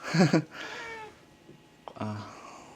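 A loud, close cat meow at the start, then quieter rustling and a second drawn-out meow near the end.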